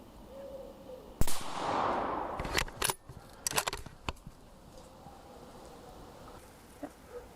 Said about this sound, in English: Okay, so we shot one.